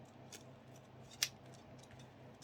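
Scissors cut paper in a quiet room during a découpage session: a few soft snips build to one sharp, close crisp cut, then faint trimming sounds follow, with no talking.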